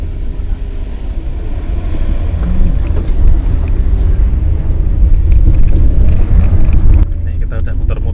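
A Suzuki SX4 S-Cross car drives around a circuit with a steady low engine rumble and road noise inside the cabin, loud and continuous throughout, while a person talks over it.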